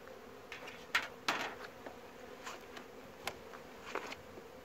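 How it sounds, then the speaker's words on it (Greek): Honey bees in a six-frame hive, under open feeding, give a steady soft buzz with a few brief louder bursts of single bees passing close, fairly faint overall with no talking. "Αυτό είναι ένα εξαράκι μελίσι."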